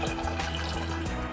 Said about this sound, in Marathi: गॅस बंद करून टोमॅटो खाली काढून त्यामध्ये थंड पाणी टाकायचे.